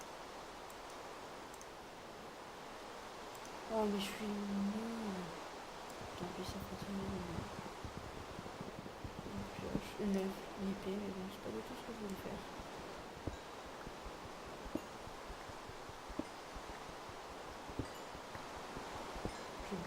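Steady rain hiss in the Minecraft video game, a broad, even wash of noise running throughout under someone speaking French in the foreground.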